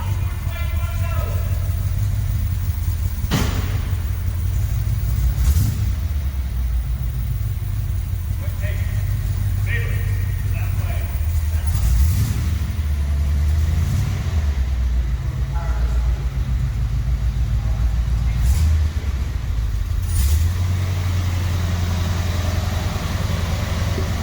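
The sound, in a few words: 1958 Plymouth Belvedere 392 Hemi engine driving onto trailer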